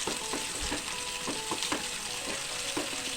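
Onions frying in a pan for a Kerala meat dish, a steady close sizzle with periodic stirring scrapes spaced through the whole stretch, no voices.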